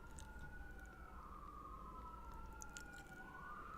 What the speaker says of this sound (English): Oh, here comes some sirens.